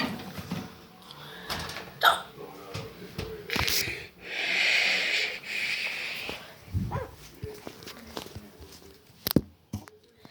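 Repeated hiccups from a person, a few sharp spasmodic catches spaced irregularly among breathy noises and small movements, close to the microphone, with no talking.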